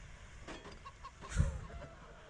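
Chickens fired from a chicken gun in a video game cluck in short, soft bursts over background noise, with one louder squawk around the middle.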